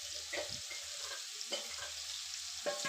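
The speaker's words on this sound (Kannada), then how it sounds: "ಎಣ್ಣೆಲಿ ಚೆನ್ನಾಗಿ ಫ್ರೈ ಆಗಬೇಕು." A chicken roast mixture sizzles in oil in a pan, a steady close fry with soft stirring scrapes, and no voices.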